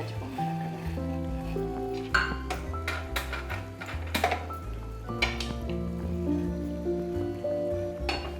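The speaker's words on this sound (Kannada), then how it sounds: "ಈಗ ಸ್ವಲ್ಪ ಅಕ್ಕಿನ ಸ್ವಲ್ಪ ಹುರ್ಕೊಳ್ತೀನಿ" Rice being roasted in a kadai on a stove, with a metal spoon scraping and clattering against the pan in a steady, busy rhythm of clinks and stirs, close and fairly loud, with no talk.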